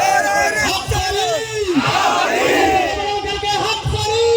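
A large crowd at a religious gathering in Kukshi roars a chant in unison, loud, overlapping shouting voices rising and swelling together close by.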